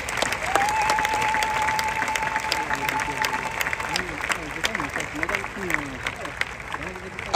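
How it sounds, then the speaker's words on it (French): Large crowd at a stadium church gathering applauds and cheers in praise of the Lord, a dense, continuous roar of clapping with a sustained whistle or held tone early on and voices calling over it. "Acclame très fort pour le Seigneur."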